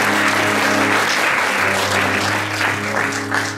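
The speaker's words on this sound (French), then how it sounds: "Je vous demande d'applaudir Gérard Mathieu." An audience at a live show claps enthusiastically for a performer being introduced, loud, dense applause that holds steady and then tapers slightly toward the end.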